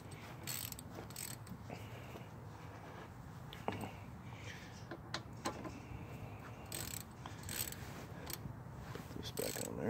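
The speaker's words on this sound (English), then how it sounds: "So let's tighten these screws back up." A ratchet clicks as it tightens the brake caliper screws on a front-wheel-drive car, a faint close run of quick pawl ticks repeating over several seconds with soft background noise.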